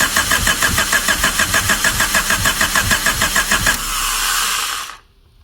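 A worn Honda Civic from a junkyard cranks with a rapid rhythmic chug for several seconds, catches and runs briefly with a rough even roar, then cuts out abruptly.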